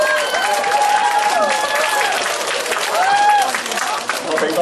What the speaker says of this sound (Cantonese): 佢哋拍掌聲阻咗你。